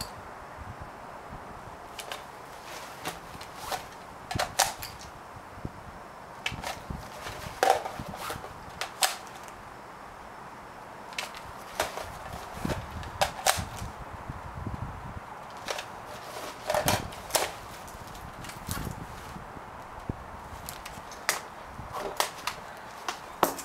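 Airsoft gun being reloaded with its loadout gear: a steady series of sharp clicks, snaps and rattles from magazines and gear, close and moderately quiet, with no talking.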